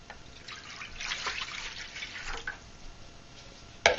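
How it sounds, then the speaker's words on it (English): Water is poured gently into a bowl as the first step of making lard soap, a soft trickling and splashing that swells and fades over a few seconds, ending with a brief sharp clink. "We're going to put the 12 ounces of water into our bowl."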